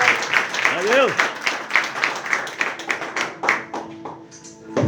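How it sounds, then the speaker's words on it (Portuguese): A church congregation at a Brazilian worship service claps in a sustained round of applause, with rhythmic hand claps throughout and voices calling out over them. "Vamos receber ele com uma salva de palmas."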